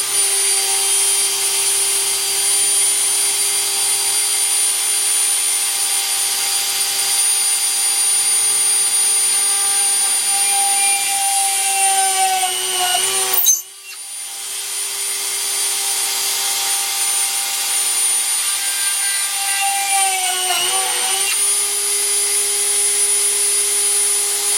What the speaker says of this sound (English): here we are with the drill press. I'm going to put these entry holes here